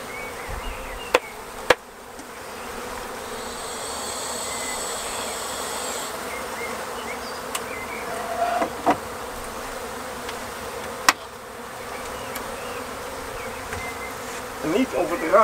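Honeybees buzzing around an observation hive as a colony is moved into it, a continuous close insect drone with a few brief clicks and knocks.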